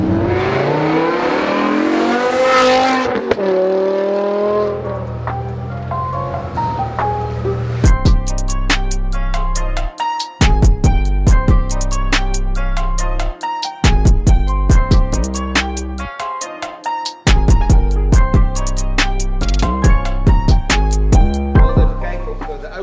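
BMW M5 V10 engine revving hard with wheelspin, first a rising howl, then a series of loud, sharp, high-pitched revs in bursts with short pauses, heard up close over faint background noise.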